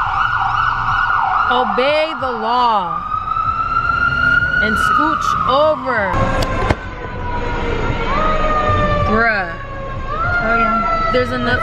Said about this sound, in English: We have to deal with sirens all the time.